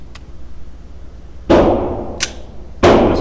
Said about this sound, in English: So I'm going to shoot, and I noticed I'm kind of dropping the shots